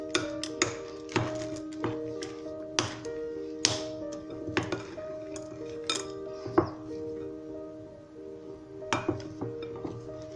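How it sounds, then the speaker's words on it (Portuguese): Spoon clinking and tapping against a bowl while stirring cookie dough with chocolate, a steady run of light, bright clicks and scrapes close by, no talking. "Deixa eu misturar com essa colher aqui mesmo, né? A nossa massa."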